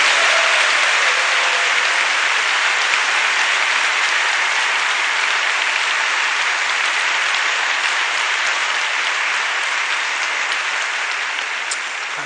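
A large church congregation breaks into loud, sustained applause welcoming a speaker at a revival meeting, an even dense roar of clapping that eases off slightly at the end.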